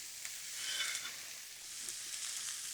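Garlic and onions sizzle in a hot pan, a quiet, steady frying hiss with a few faint clicks of movement, heard alone without voices.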